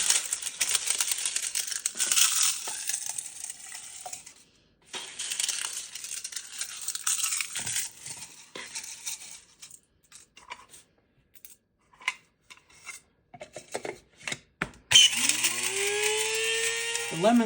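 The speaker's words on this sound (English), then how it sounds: "we're going to put them in our coffee grinder" Coffee grinder pulverizing dried lemon leaves, harsh whirring bursts of grinding that stop and start, with crackling rattles between runs and a motor spinning up again near the end.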